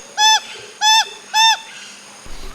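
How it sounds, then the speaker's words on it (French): A wattled jacana calls in a coastal marsh in French Guiana: three loud, harsh, evenly spaced squawks, close by, with quiet marsh ambience in between. "c'est le jacana"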